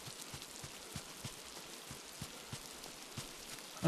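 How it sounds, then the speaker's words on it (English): Rain falls in a video game, a soft, quiet hiss with scattered light droplet taps at irregular intervals, steady and faint throughout. "And it's raining."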